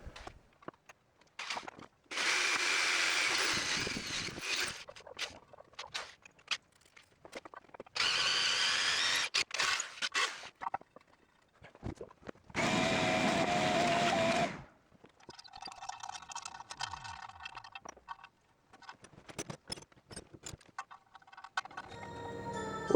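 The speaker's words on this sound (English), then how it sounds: "now I'm going to have to go ahead and drill it out to get this piece put in" A drill bores out a race boat part to fit a thermostat sending unit, in three loud, sustained runs of several seconds each with quiet handling noises between them.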